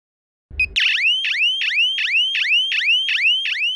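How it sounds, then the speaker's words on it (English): A button click, then a walking stick's piercing electronic panic alarm whoops in rapid repeated rising sweeps, loud and close, about eight cycles without pause. "Press button C once to trigger the panic alarm"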